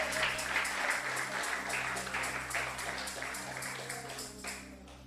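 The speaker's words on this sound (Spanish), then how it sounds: "Aplaude al Dios que vive, aplaude al Dios que vive" Church congregation clapping in steady rhythm during a Sunday worship service, the claps blending with sustained music and continuing through the whole stretch at moderate loudness.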